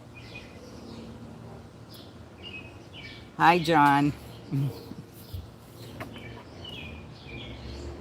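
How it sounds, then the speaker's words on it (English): Outdoor birds chirping in short, faint tweets in the background, with a person talking loudly in the middle of the stretch. "you guys like the bird sounds in the background?"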